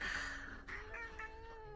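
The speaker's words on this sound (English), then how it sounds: "an annoyed meow through her snores" A sleeping cat lets out a soft, faint, annoyed meow, a short drawn-out whining tone rising and wavering over quiet background hiss.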